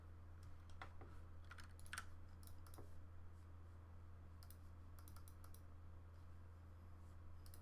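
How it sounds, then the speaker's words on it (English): Loud clicky mechanical keyboard typed on at a desk during a programming session, with irregular bursts of sharp key clicks over a steady low electrical hum, no talking. "Yeah, it's a nice clicky mechanical keyboard,"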